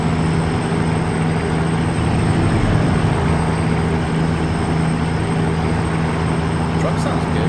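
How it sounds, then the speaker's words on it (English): Heavy truck engine in American Truck Simulator drones with a steady low hum and a constant tonal whine while driving, loud and continuous throughout. "Truck sounds good."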